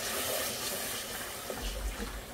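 Water is poured into a cooking pan, a steady close hiss and rush lasting a couple of seconds, with a low gurgle toward the end.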